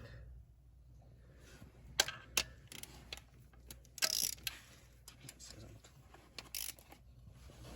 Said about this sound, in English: this torques to 59